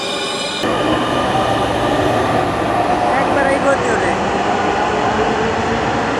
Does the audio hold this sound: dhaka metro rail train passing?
yes